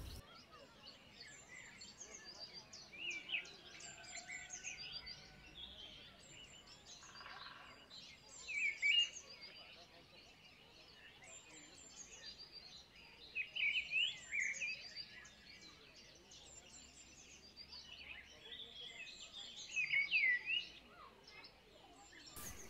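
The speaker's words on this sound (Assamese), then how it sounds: "আৰু এইবিলাক চৰাই দেখিছেনে ইমান মৰম লগা চৰাই" Small birds chirp and tweet in a zoo aviary at the Assam State Zoo, with scattered calls rising in a few brief bursts over a steady low hum of background noise, fairly faint and distant.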